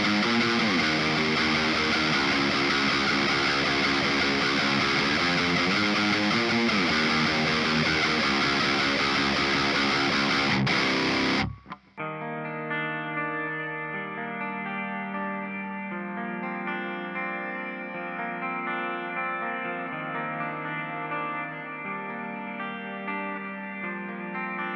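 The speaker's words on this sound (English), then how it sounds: "lots of different rhythm guitar tones, lots of variations on the type of tones, a couple clean tones sprinkled in there" An electric guitar plays through STL ToneHub presets: a thick, distorted rhythm tone for about twelve seconds, then an abrupt switch to a cleaner, ringing chordal tone.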